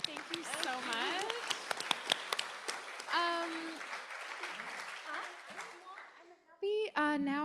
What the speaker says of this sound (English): Please give a round of applause to everyone who could be here.